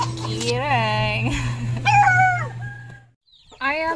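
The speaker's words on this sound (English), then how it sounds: "I am here now in the house of chickens" Chickens and young chicks in a backyard coop in a rural province give short clucks and calls up close, mixed with a dog's whimpers and a steady background hum.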